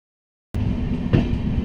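Interior of a moving passenger train bound for Subrahmanya Road station: a steady, close rumble of wheels and carriage starts abruptly after a brief silence, with a single soft thump partway through and no voices.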